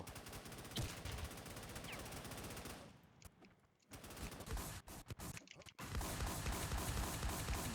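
A machine gun in the zombie survival game WarZ rattles in long, dense bursts, breaks off for a few seconds of scattered shots, then resumes with steady heavy fire.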